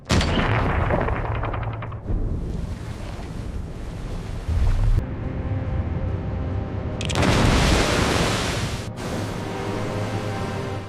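A naval mine explodes at sea and sinks a large oil tanker. Heavy blasts and roaring water surge in loud waves, with a powerful burst near the end and wind-like rushing throughout, and no voices.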